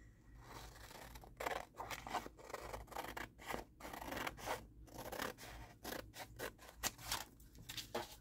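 Scissors snip and crunch through paper or cardstock while trimming an accordion pocket for a craft project, a run of close, crisp cuts and scraping strokes in an uneven rhythm.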